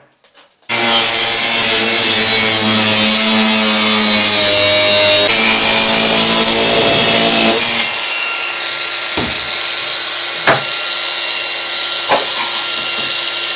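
A power tool cuts a PVC adapter frame to size during a bathroom heater renovation in an old house, giving a loud steady grinding whine for about seven seconds, then a quieter hum with a few sharp knocks.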